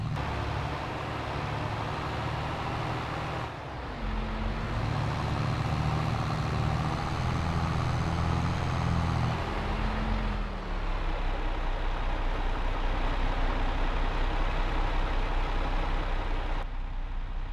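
Tractor engine in Farming Simulator 22 labouring uphill while pulling a loaded trailer, a steady loud low drone that shifts in pitch and load partway through, with no talk over it.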